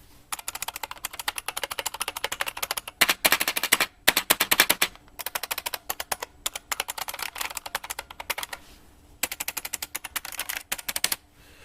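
An IBM Model M buckling spring keyboard is typed on in fast, loud, clacky bursts, with rapid rattling keystrokes broken by brief pauses, close up and with no other sound.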